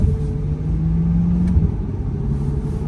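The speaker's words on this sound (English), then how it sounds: "the V8, once you get into the higher RPM ranges, really sings" Chevrolet Corvette C8 V8, a 2023 model, revving toward high RPM while shifting through the gears, a steady close engine drone with a rising tone that breaks at a shift near the middle.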